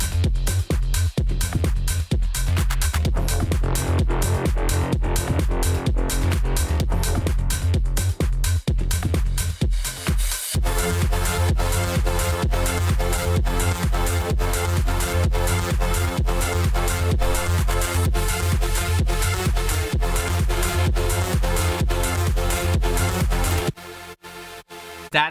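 A loud synthesized chord in an electronic song, sustained and dense, with pulsing beats underneath before the chord takes over and drops in pitch, cutting out near the end.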